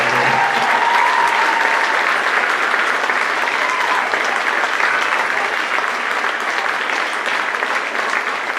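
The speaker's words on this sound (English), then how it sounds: "one more round of applause" Parents in a school auditorium give a school band concert a sustained round of applause, a thick, even wash of many hands clapping that carries loudly for several seconds without any talk.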